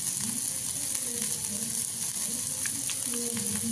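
Vegetable egg dosa batter with turmeric sizzling steadily in a hot pan, a close, continuous frying hiss with faint scraping and stirring clicks and no talking.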